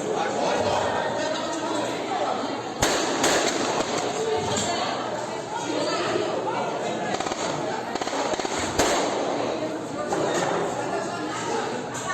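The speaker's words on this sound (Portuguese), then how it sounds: "Tiroteio, mano, tiroteio" Gunfire in a shootout rings out as repeated sharp cracks, with two loud bursts standing out over a constant din of agitated crowd chatter and shouting voices nearby.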